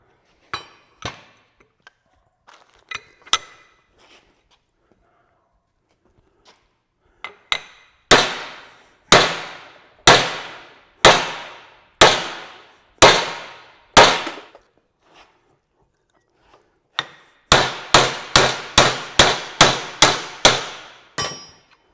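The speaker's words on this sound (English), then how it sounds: "I was hitting that hammer right on the yoke right here" Sharp metallic hammer blows on an axle yoke ring out, a few scattered hits followed by steady rhythmic runs of loud clanging strikes with brief pauses between sets.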